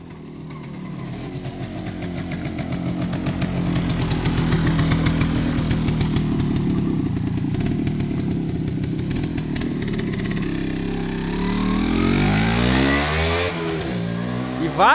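An MZ 250 motorcycle engine runs and revs, a buzzy, uneven two-stroke drone that swells and falls across the clip, close and loud, with brief talk and a sharp rise near the end.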